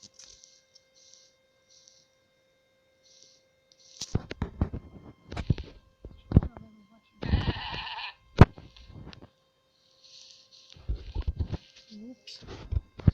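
Sheep bleat in the MultiCraft video game, giving a few short, fairly faint cries mixed with game sounds and a person talking intermittently over them.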